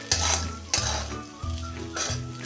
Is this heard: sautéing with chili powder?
yes